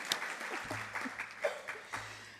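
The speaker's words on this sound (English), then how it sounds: "Highly skilled, you can applaud" Ceremony audience applauding teaching chairs as they come on stage, a moderate spread of clapping with a few louder individual claps, fairly steady throughout.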